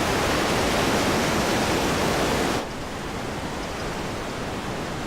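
A large waterfall on the River Nile roars as a dense, steady rush of falling water, loud for the first half and then abruptly softer but still continuous, with no voices.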